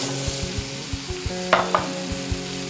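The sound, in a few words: potatoes added to a pot of cooking spices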